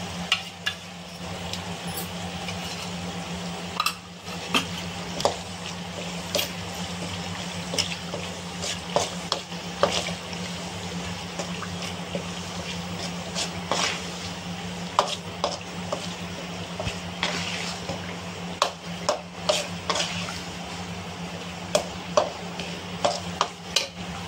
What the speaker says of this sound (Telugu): ఈ మిక్సీకి వేసిన ఈ టమాటో గుజ్జుని కూడా వేసి కలుపుకోవాలి ఫ్రెండ్స్.